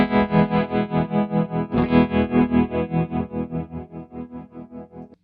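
Electric guitar chords played through a modulation effect pedal, drenched in swirling modulation, pulsing wobble in the tone, ringing and fading out at the end.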